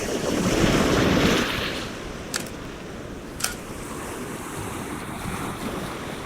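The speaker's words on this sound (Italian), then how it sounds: "Bisogna interagire con le onde." Ocean waves break on a coast with cormorants passing, giving a loud rushing wash that fades into steady surf hiss and wind, with a couple of sharp clicks.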